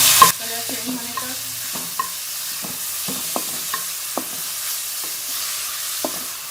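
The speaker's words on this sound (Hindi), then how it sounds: "अब हम इसमें ये कीमा शामिल कर लेंगे और कीमे को अच्छी तरह से लहसुन के साथ भून लेंगे कलर चेंज होने तक।" Minced meat frying with garlic in a pan for a Pakistani qeema macaroni dish, with a steady sizzle under repeated sharp scrapes and clatters of a spoon stirring, close and clear, with no talking.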